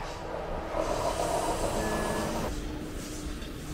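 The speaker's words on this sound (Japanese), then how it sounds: "あっちは電車走ってるし。" A train rumbles past close by near a rail depot, with a steady roar and rolling wheel noise, a faint metallic squeal rising briefly midway.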